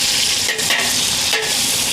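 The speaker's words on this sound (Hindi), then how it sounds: "प्याज को हम थोड़ी देर पकाएंगे।" Onions frying and being stirred in a large pot for chicken pulao biryani, a loud continuous sizzle with brief scraping stir sounds, with no talk.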